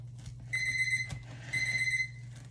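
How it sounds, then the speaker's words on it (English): A kitchen timer goes off while chicken bog cooks, sounding two bursts of rapid, bright beeping over a low steady hum, with a soft clunk between them. "There's our timer."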